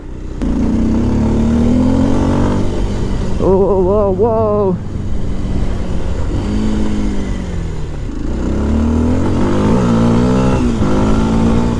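Kawasaki KLX230 off-road motorcycle engine running loud and close, revving up and down in several swells, with a rider exclaiming briefly.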